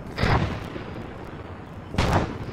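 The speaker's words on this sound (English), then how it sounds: "Everyone get cover, artillery about to hit to our north." Artillery shells land nearby in two heavy, booming blasts about two seconds apart, each a loud burst that trails into a low rumble, with no voices.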